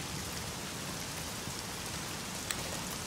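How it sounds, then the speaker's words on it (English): Steady rain pours down in the video game The Medium on Xbox Series X, a dense, even hiss that holds throughout with a single faint tick near the end and no voices. "the rain is vibrating on the console like it's beating down"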